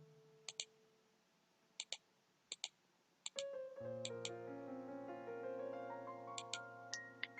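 Sharp computer keyboard key presses, tapped singly and in quick pairs at irregular intervals, near and distinct, first over near-silence and then over a steady tonal hum.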